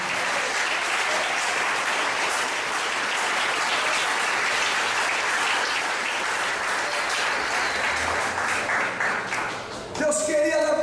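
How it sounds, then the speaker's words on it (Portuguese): A church congregation applauds in a loud, dense, sustained wave of clapping that runs for around ten seconds before a voice begins speaking. "Se você crê nisso, aplauda ao grande Rei."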